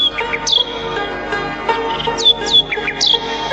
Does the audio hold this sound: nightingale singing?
yes